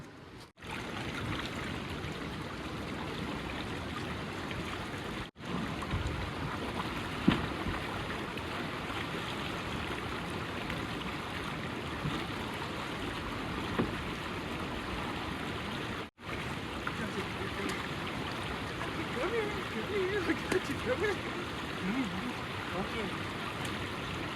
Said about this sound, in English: I'm assuming normally there wouldn't be water right here, but because it's high, there is, and it's flowing pretty good.